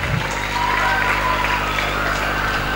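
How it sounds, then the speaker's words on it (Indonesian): An audience at a school year-end ceremony gives steady, dense applause for young children, loud and sustained throughout with crowd murmur mixed in. "Mari kita beri aplaus untuk anak-anak kita yang berprestasi di tingkat RA"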